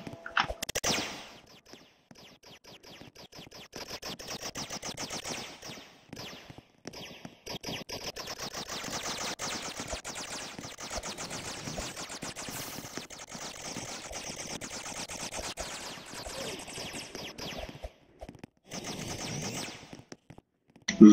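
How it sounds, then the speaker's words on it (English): A Tommy gun in a video game fires long, rapid automatic bursts, loud and sustained for most of the stretch, broken by a few brief pauses. "The Tommy gun?"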